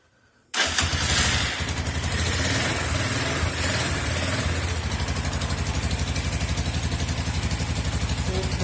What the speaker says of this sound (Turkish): Motorumuzu çalıştırdık.